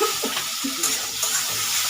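Chopped tomato and slit green chillies drop into onion and potato frying for a spicy tangra fish chorchori, giving a steady sizzle with a few scraping stirs and soft thuds, close and fairly loud.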